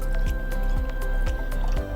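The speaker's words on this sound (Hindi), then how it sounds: "तो यहाँ 1 ग्लास में मैंने ये पानी भर दिया है।" Packaged branded water is poured into a glass, a close, gurgling stream with rhythmic glugs and drips repeating about every quarter second.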